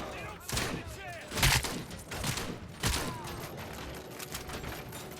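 Scattered gunshots in a RoboCop: Rogue City firefight, several sharp cracks spaced about a second apart amid mechanical clatter, moderately loud, with voices in the background.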